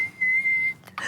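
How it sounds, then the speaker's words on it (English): A whistling tarantula, sounded as a single steady high whistle held for most of a second, then a brief rasp and a rising end note, with no talking over it. "Number 10, the whistling tarantula."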